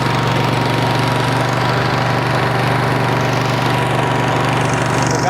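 Sawmill bandsaw engine on a homestead running at a steady idle, a close, constant low chugging drone with no talk over it.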